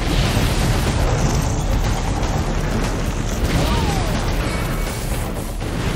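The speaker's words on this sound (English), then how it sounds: "The intense blasts rattle nearby homes and spew clouds of toxic smoke." Explosions rip through a burning facility, a dense, continuous roar of blasts and crashing debris that fills the whole stretch loudly with no pause.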